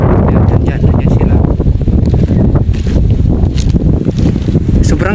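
Strong wind buffets the microphone in loud, continuous gusts during airgun hunting outdoors, with a voice faintly under the roar.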